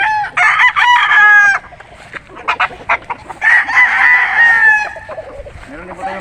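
An imported Perry Hatch gamecock rooster crows loudly and close by in repeated bursts, with clucks and faint voices in the background.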